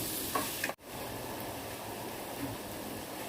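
Chicken gravy with potatoes is stirred in a pan, giving a steady, close sizzle with soft scraping. A brief sharp scrape breaks it near the start.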